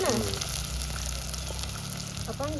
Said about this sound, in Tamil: வெங்காயத்தை போட்டு நல்லா தாளிப்போம்.